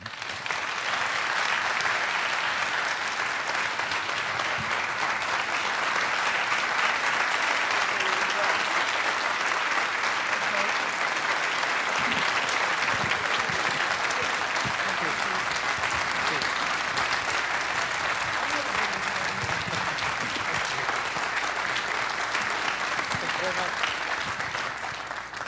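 An audience at the NCC in Philadelphia applauds to welcome Tony Blair and Bill Clinton, a dense, steady clapping that holds loud and even for about twenty-five seconds.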